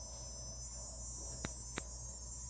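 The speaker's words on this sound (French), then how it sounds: "On entend la cigale." A cicada sings in the early morning as one steady, continuous high-pitched drone that holds level throughout, with two brief faint clicks partway through.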